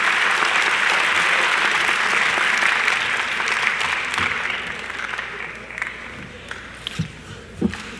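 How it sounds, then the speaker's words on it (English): A full room applauds six student speakers at a 2017 distinguished alumni awards ceremony, a long steady wash of clapping that gradually thins into scattered claps near the end. "can we get an extra round of applause for our 6 speakers, our student speakers"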